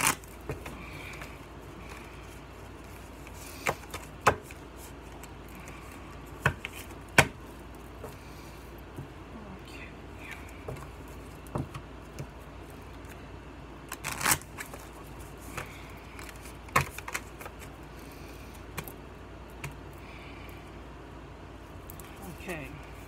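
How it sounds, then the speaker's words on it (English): Cards from an oracle deck are shuffled in a long run of soft riffling and scattered sharp flicks and taps, fairly quiet throughout, with speech-like murmur present but no clear words. "I want to pull an advice card from the Work Your Light"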